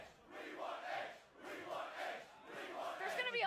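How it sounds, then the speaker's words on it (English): Stadium crowd in Pokémon Sword swells in rhythmic waves of chanting and cheering, three rising-and-falling surges at moderate distance, fairly quiet overall. "What a crowd."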